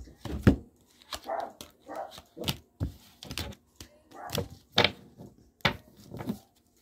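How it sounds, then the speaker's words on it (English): Several dogs bark in short, loud bursts indoors, irregular woofs and yips spread across the span, fairly close, with no talk over them. "Sorry about my dogs."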